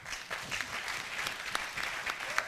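Audience applause at an official launch ceremony, steady clapping from a crowd sustained through the whole stretch, fairly even in loudness with a few sharper claps standing out.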